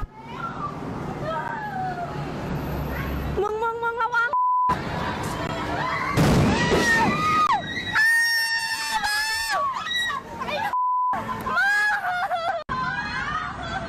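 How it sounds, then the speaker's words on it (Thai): Giant firecrackers are thrown around a Thai neighbourhood, drawing shrill screams from girls and locals, with a sharp bang and excited crowd voices mixed under news narration and broken by beeps. "น้องๆผู้หญิงแล้วก็คนละแวกแถบนั้นนี่กรี๊ดกันเสียงดังเลย"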